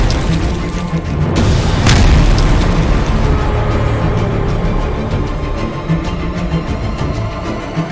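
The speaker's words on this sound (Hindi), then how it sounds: "जब अर्जुन की तोप ने गोले उगलने शुरू किए तो पल भर में दुश्मन की ताकत हवा हो गई।" An Arjun tank's main gun fires shells amid explosions: loud booms with a sharp blast near the start, then a sustained rumble of continuous heavy firing and detonations throughout.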